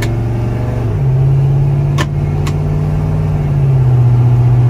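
A carbureted LS-swapped Chevy C10 squarebody pickup pulls steadily through its gears, a smooth droning engine tone that drops in pitch at a shift and then holds, heard from inside the truck with no talking.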